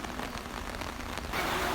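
Rain falls steadily on surfaces nearby, a dense, even patter that swells slightly louder toward the end.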